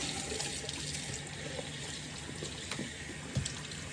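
Water from a tap runs steadily as a make-up towel is rinsed under it in a sink, a continuous close hiss with a few small splashes and no talk.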